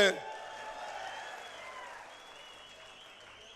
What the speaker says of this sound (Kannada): ಒಡ್ರಿ ಚಪ್ಪಾಳೆ